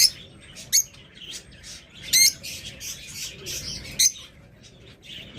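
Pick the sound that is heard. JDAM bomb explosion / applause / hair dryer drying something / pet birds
pet birds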